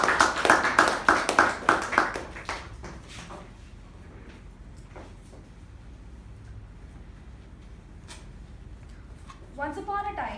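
Applause from a Toastmasters meeting audience, a burst of dense clapping for the first few seconds that thins and fades, with quieter room noise and a voice at the end.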